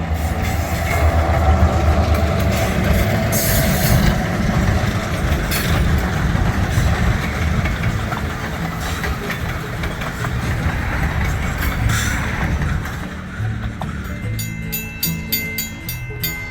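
An Alexander Railroad freight train pulls a grade into Scotts, North Carolina, its engine droning loudly and steadily with rumbling wheels, then the sound thins toward the end as a rapid rattling clatter emerges.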